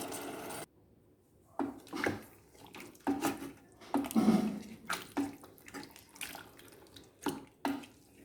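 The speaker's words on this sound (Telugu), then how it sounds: "నీళ్ళు వేసుకుంటున్నాను" Water is poured into country chicken curry with ground masala in a pressure cooker, coming as close, quiet splashing bursts after a brief hush, with no talking.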